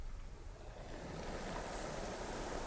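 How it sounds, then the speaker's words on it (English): Soft ocean waves wash steadily onto shore, a continuous broadband surf hiss with gentle swells and no voices, close and even in loudness throughout. "They just become so very deeply relaxed while you listen to the sound of the waves."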